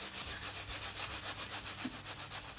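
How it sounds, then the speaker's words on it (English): Gloved hand rubbing wet wool fabric during a felting demonstration, a steady soft swishing friction repeating in an even rhythm of strokes, close and continuous with no talk. "as I rub harder, it was starting to mat together better"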